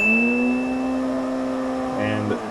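A drift car is slung around into a backwards entry, its engine note holding a steady strained tone before dropping, with a brief rough scrub near the end, loud and close.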